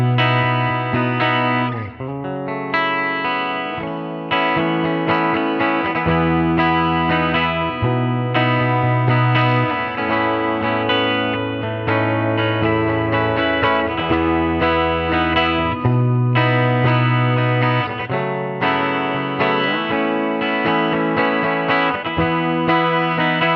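A Gretsch Streamliner Jet Club single-pickup electric guitar plays clean sustained chords and melody lines through delay and reverb pedals into a Fender '68 Princeton amp, with a lush, echoing, continuous tone throughout.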